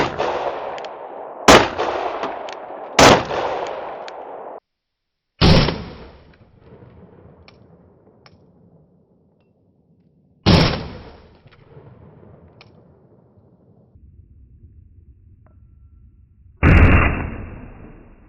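Gunshots from a Glock 43X pistol fitted with a Dagger micro ported slide: about six loud, sharp reports, some close together and others several seconds apart, each followed by a short decaying echo.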